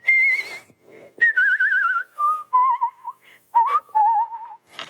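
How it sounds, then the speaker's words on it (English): A person whistles a wandering tune with vibrato, the clear notes wavering as they slide between pitches in short phrases separated by brief pauses. "I whistle with vibrato"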